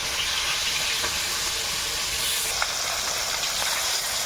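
Katla fish sizzling in hot oil in a wok, a steady loud hiss and crackle that continues unbroken throughout, with faint clinks now and then.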